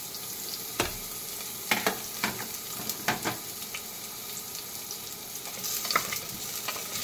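Potato, carrot and cauliflower fry in hot oil in a pan, a soft steady sizzle broken by several sharp scrapes and clinks of stirring, close and fairly quiet with no talk.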